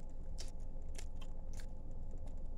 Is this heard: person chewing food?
yes